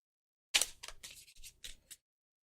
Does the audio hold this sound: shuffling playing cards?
yes